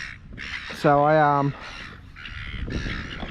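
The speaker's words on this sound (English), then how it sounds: "all of a sudden the seagull started going absolutely crazy" A single harsh call rings out near fishing boats, where seagulls are agitated, and stands out clearly over ongoing talk and background noise.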